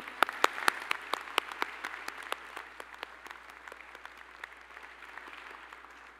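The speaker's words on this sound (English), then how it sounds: "Congratulations, give yourselves a round of applause." Graduates at a Highland Park High School graduation clap for themselves, a few loud, close claps at first that swell into a broad round of applause and then slowly thin out.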